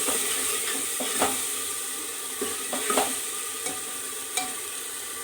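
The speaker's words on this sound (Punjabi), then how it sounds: "ਆ ਲਸਣ ਅਦਰਕ ਦੀ ਪੇਸਟ ਨੂੰ ਆਪਾਂ ਚੰਗੀ ਤਰ੍ਹਾਂ ਥੋੜਾ ਜਿਹਾ ਭੁੰਨਾਂਗੇ" Garlic ginger paste sizzles steadily in a pan while a spoon stirs it, with scattered scraping clinks against the metal over the constant frying hiss.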